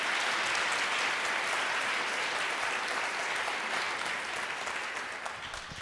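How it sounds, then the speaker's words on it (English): An audience at a music masterclass gives a warm round of applause, continuous and even for several seconds, then gradually thinning as it fades. "a big round of applause for Aiden"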